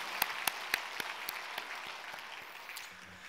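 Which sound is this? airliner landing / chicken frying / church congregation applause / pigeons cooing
church congregation applause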